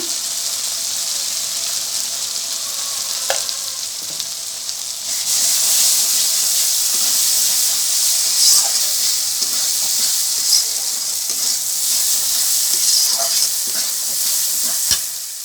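Spices with dry chili powder frying for beef tripe curry: a loud, continuous sizzle up close that grows stronger partway through, broken by scraping stirs.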